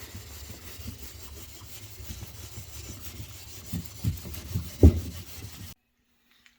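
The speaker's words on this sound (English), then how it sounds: "I'm also using this little nylon pad to scuff up the surface before I apply the Cetol." A wooden sailboat railing is scuffed with a nylon pad, giving soft, irregular rubbing strokes close by that build to a few louder scrapes before stopping abruptly into silence.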